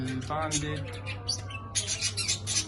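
A rainbow budgerigar chirps in a short series of close, bright tweets and squawks over a steady low hum, with someone talking throughout.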